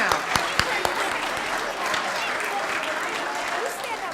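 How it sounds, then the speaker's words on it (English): An audience applauds students at a school volunteer recognition event, with sharp nearby claps over a dense wash of clapping that fades slightly toward the end, with some voices mixed in. "let's give a round of applause to our Erskine students"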